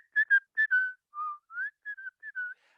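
A person whistles by drawing air inward, producing a quick series of short, close, clear whistled notes, some sliding up or down, with brief gaps between them and no talking.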